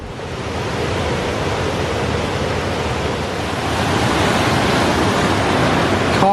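A small waterfall beside a canoe slalom course in Bedfordshire roars in a loud, dense, unbroken rush, steady and close for the whole stretch, with no voices.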